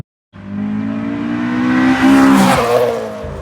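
Honda Integra Type-R (DC2) engine revving with VTEC, climbing from idle into a loud, rising high-rpm wail and then dropping back, nearby and alone.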